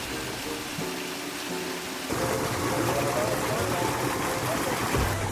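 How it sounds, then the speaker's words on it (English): A small waterfall in a garden by a koi pond splashes in a constant wash of falling water, which grows louder partway through. "The last thing to see before reaching the koi pond is a small waterfall."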